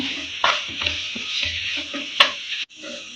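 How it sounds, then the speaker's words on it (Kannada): A spoon stirs turmeric powder and salt into bisi bele bath in a pot, with soft scraping strokes and light clinks over a gentle background hiss. "ನೀಟಾಗಿ ಮಿಕ್ಸ್ ಮಾಡ್ಕೊಳ್ಳೋಣ"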